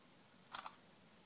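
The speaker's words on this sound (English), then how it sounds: "you get this sound, shutter sound" A Samsung Galaxy S smartphone camera fires its shutter sound: one short, crisp double click, fairly quiet and isolated against near silence.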